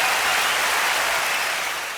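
A crowd applauds steadily at a live sales-training show, dense and continuous clapping that fades slightly toward the end.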